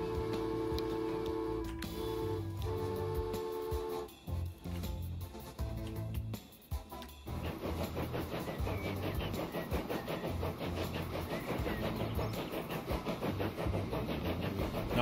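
Steam train in Transport Fever 2 runs with a steady mechanical rumble and rhythmic ticking, a sustained tonal whistle-like sound early on giving way to broad noisy rolling as it gathers pace; no talk.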